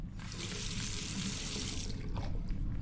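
Water runs from a tap into a sink in the video game The Last Door, a steady rushing stream for nearly two seconds before it cuts off, leaving a faint trickle.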